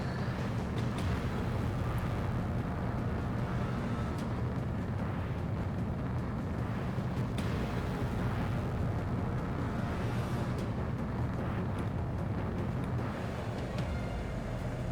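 Anti-air missiles fire and explode in the Ace Combat 7 jet combat video game, a loud, continuous wall of rumbling blasts and roaring engine noise with no pauses.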